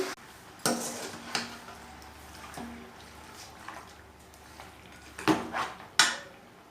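Chicken pieces with onion, chilli, tomato and salt stirred in a pot, giving scattered scraping and clinking knocks of a spoon against the metal, with a louder cluster near the end, over a quiet background.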